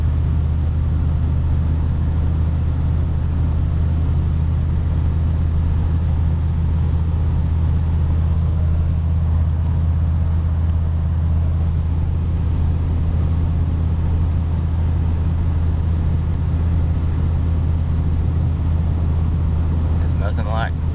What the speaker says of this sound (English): There's nothing like cruising down the road on wood scrap.